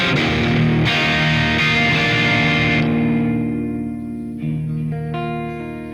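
Heavily saturated, distorted chords from a 2016 Ibanez Jem Jr through a BlackStar HT-1R head with the gain maxed ring out loud and sustained, one chord decaying before another is struck, with no voices.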